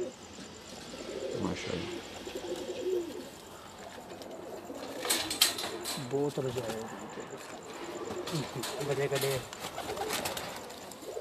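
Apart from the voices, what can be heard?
pigeons cooing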